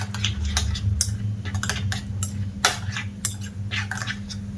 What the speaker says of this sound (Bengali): এবার টক দইটা ভালো করে মিশিয়ে নেব।